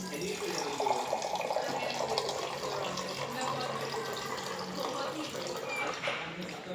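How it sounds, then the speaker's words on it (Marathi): Water poured from a glass into a potato noodle mixture, a steady trickling stream throughout at moderate level with a faint background. "सो आता आपण पाणी टाकूया."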